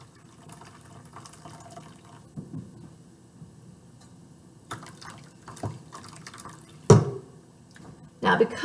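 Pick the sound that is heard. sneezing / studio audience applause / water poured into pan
water poured into pan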